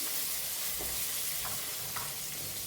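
Mushrooms fry in a pan, releasing their water with a steady, close hiss of sizzling and a few soft stirring scrapes, no voices.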